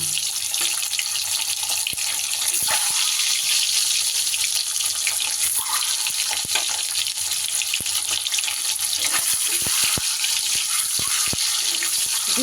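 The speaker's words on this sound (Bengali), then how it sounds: "এইবার ডিমগুলোকে আমি ভেজে নেব" Eggs fry in hot mustard oil in a pan at home, giving a steady, close, broadband sizzle and hiss with scattered sharp crackles and pops throughout, and no talking.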